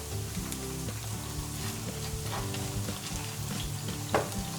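Soy mince sizzles and crackles steadily in a hot pan for Greek vegan moussaka, with a few scraping stirs and a sharper clatter near the end; no one speaks.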